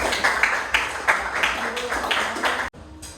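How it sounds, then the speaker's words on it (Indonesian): Clapping in a history classroom lesson, a series of sharp hand claps in a loose rhythm at moderate distance, cutting off abruptly near the end. "Oke, tepuk tangan."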